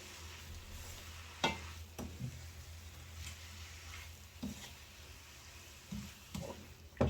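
Spinach sizzling and frying in a pan, with steady low crackle and several sharper stirring clatters of a utensil against the pan, no talk.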